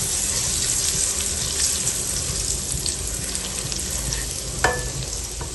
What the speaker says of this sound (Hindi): मेवे हैं, इनको थोड़ा सा फ्राई करते हैं।